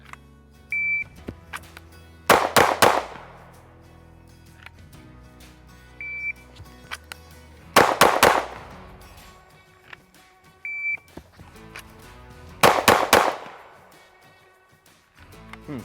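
Springfield Hellcat Pro pistol fired at a target on an outdoor range in three bursts of rapid shots, each a tight cluster of sharp cracks followed by ringing decay, with quieter handling noises and faint beeps between.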